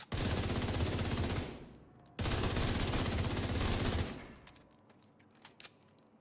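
Two long bursts of rapid automatic gunfire from a video game headshot damage test, each lasting about two seconds, loud and dense, followed by a quieter tail of scattered clicks.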